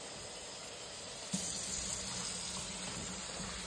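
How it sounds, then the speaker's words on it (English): Fish and vegetables sizzling in a hot pan as water is poured in to steam them: a continuous quiet hiss and crackle with a brief splash partway through. "so let me just add some water to it."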